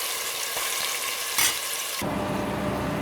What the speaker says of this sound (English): Let the pieces seal in the hot oil and cook it on a high flame.